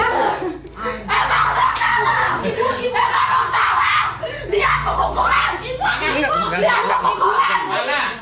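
A girl screams and cries out repeatedly over a noisy, crowded scene, shrill bursts rising above overlapping adult voices, laughter and commotion close to the microphone.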